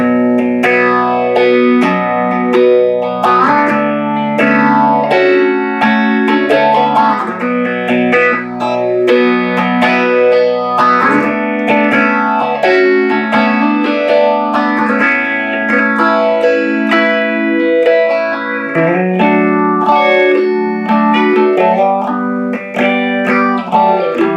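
Guitar chords run through an MXR Phase 95 phaser pedal, the tone swirling in slow, repeating waves, steady and loud throughout with no voices.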